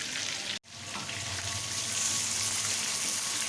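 Gola kabab frying in hot oil, a steady close sizzle with faint bubbling, briefly cut off by a short silent gap before the frying resumes and continues evenly.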